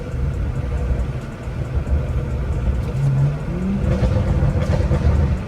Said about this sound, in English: look how sexy this car sounds